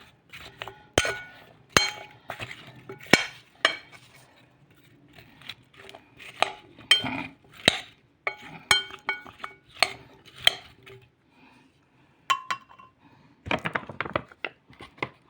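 Potatoes and cabbage with starch being stirred in a pot: repeated sharp metallic clinks and scrapes of a spoon against the pot, coming in irregular bursts up close.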